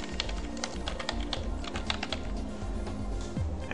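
Rapid, steady keystrokes on a computer keyboard, close and clear, an even run of clicks lasting a few seconds with no talking.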